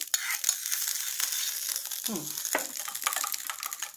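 Chicken being stirred with yogurt and sugar in a pan, a close, soft sizzle under scraping stirring strokes, with a sharper scrape partway through.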